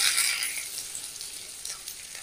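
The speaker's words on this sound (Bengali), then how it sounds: "পেঁয়াজ একটু ভেজে নেব" Onions fry in hot oil in a pan with a steady, close crackling sizzle, brightest at the very start, then settling into an even hiss with a few small pops.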